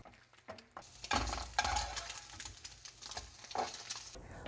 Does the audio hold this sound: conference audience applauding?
no